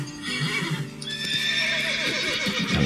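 Horses neigh and whinny in The Witcher 3 video game, loud close whinnies rising and falling alongside the clip-clop of hooves, with no one talking.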